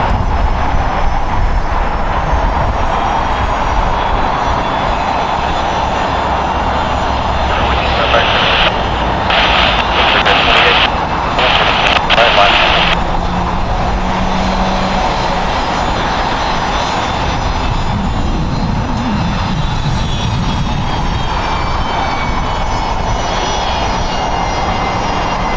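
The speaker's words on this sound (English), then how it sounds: "The Qantas A380 is going to be popping behind Tom Bradley International Terminal here." A Qantas Airbus A380 at LAX gives off a loud, sustained jet roar near Tom Bradley International Terminal, with a steady broadband rush, some brief bright bursts midway, and faint talk now and then.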